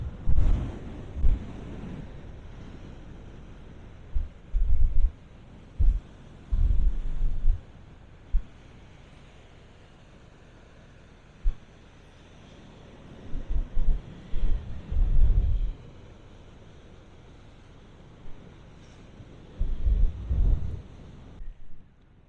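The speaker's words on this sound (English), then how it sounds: "it's pretty windy now." Gusts of wind buffet the microphone in repeated low rumbling bursts over a steady background roar, with quieter lulls between, outdoors at Fort Worden near the Coast Artillery Museum.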